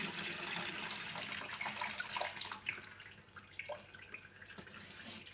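Water pouring and splashing while the brine is changed on a jar of home-cured green or black olives, a steady running, tap-like wash with small sloshes and drips, close and alone.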